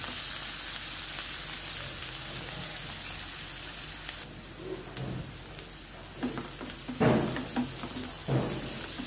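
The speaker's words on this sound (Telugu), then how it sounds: "ఈ విధంగా మగ్గితే చాలండి ఉల్లిపాయలు" Onions fry in a pan with a pinch of salt, hissing and sizzling steadily throughout, with stirring scrapes and soft knocks in the later seconds.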